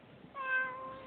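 A cat gives a single drawn-out meow outdoors, moderately close, rising then trailing off, with no talking over it.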